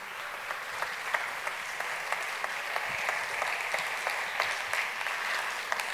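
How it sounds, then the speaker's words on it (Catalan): A seated audience at a talent talk applauds a high-level ski and mountain racer, steady dense clapping from many hands filling the room at an even loudness throughout, with no voices over it. "Un fort aplaudiment per ell."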